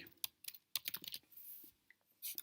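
Typing a port scan command on a computer keyboard, with close, crisp keystrokes in uneven quick bursts broken by short pauses, quiet and free of talk.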